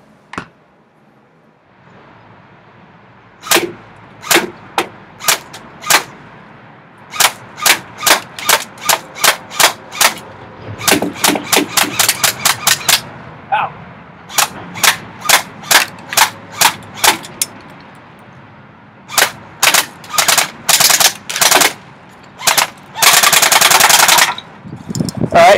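A JG SL8 airsoft rifle, a G36 type, fires 0.2 gram BBs at cans outdoors in sharp, loud, rapid bursts of cracking shots, some single and some in quick strings, with short pauses between.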